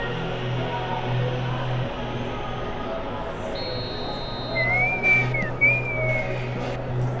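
A referee's whistle calls a foul in an eFootball match, heard as a few short shrill blasts over steady stadium crowd ambience, with a commentator's voice faintly in the mix.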